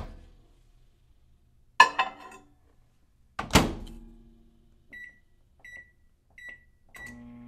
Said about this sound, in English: So let's go put those burritos in the microwave.